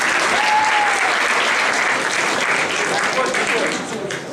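Audience applause for a performer at a homecoming talent show, a loud, dense round of clapping that holds steady and then tapers slightly toward the end, with a few voices faintly mixed in.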